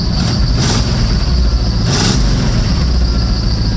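A 1973 Chevy Blazer K5 engine runs steadily at close range, with a low, continuous rumble that could include a small exhaust leak and brief rises in the hiss.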